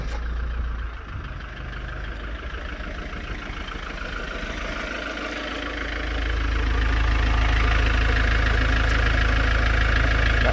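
The 2.3 diesel engine of an Iveco Daily MK4 van idles close by after an oil change, with a knocking, rattling chug that grows louder and deeper partway through, then settles into a steady rumble.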